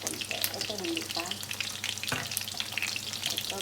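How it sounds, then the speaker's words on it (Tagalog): Catfish for adobo sizzles steadily in a pan on a stove with uneven flame, a dense continuous crackle close up with faint stirring scrapes. "Basta prito lang ng ganito, ganito lang"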